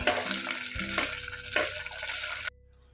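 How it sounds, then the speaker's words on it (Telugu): Chopped onion and green chillies fry in a pan with a crackling sizzle and rhythmic stirring strokes, then the sound cuts off abruptly to near silence. "ఆనియన్ పచ్చిమిర్చి ఇలా బాగా ఫ్రై అయిన తర్వాత"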